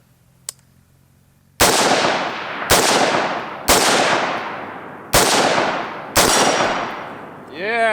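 A $500 AK-47 rifle fires five loud, sharp rounds outdoors, spaced irregularly about a second apart, each crack trailing into a long echoing decay, with a faint click beforehand.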